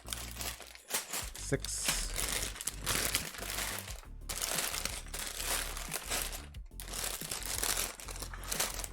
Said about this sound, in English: Hopefully the crinkling is not crazy loud.